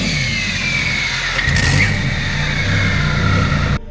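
A twin-turbo Lamborghini Gallardo, built up to around 1000 horsepower, revs loudly and close by. Its engine climbs and falls in strong surges before cutting off abruptly near the end.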